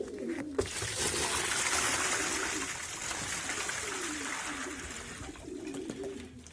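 Soft, low cooing from pigeons repeats under a steady wash of trickling water and background noise.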